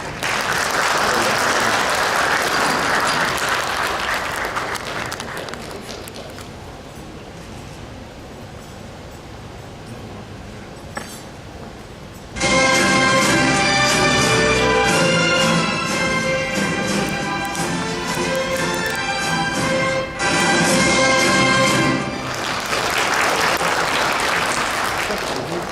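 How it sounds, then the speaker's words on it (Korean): Audience applause welcoming the president of Inje University at a snowy-day regional industry-academia exchange event, a loud, sustained round of clapping that fades for several seconds before dense music swells in, the clapping continuing beneath it. "여러분 총장님 박수로 맞이해주세요."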